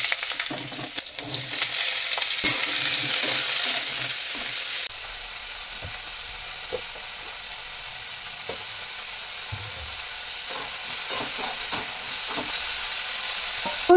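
Vegetable curry sizzles in hot oil in a wok (kadai), with a strong hiss at first that settles into a quieter, steady frying sound, broken by occasional clinks of stirring.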